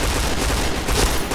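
Rapid gunfire in the Point Blank online shooter game, a dense burst of loud overlapping shots with no speech.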